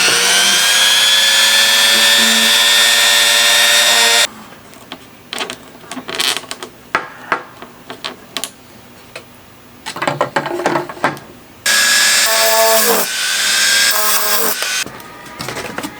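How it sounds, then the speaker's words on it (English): A high-pitched Dremel rotary tool whines loudly while drilling a hole, stops for a stretch of clicks and handling noises, then starts whirring again near the end. "Got my dremel, gonna drill a hole and then glue it."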